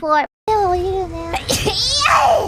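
A sharp, sudden sneeze bursts out midway through a streamer's livestream, sandwiched between stretches of high, childlike chatter close to the microphone.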